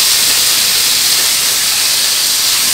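Fish marinade frying in a pan gives a steady, loud sizzling hiss, continuous and close with no pauses.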